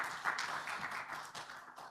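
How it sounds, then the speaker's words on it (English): Scattered audience clapping at the ALDG Business Forum 2026, a faint, thin patter of hands over about two seconds with no speech. "Please give them another round of applause."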